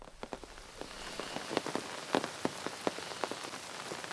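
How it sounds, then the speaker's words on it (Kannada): Heavy monsoon rain in Madikeri, Kodagu falls steadily on a hard surface, with many individual drops tapping loudly and irregularly close by, no voices. "ಕೊಡಗು ಜಿಲ್ಲೆಯಾದ್ಯಂತ ಕಳೆದ 1 ವಾರಗಳಿಂದ ಮಳೆ ಅಬ್ಬರಿಸಿ ಬೊಬ್ಬೆರಿತಾ ಇದೆ"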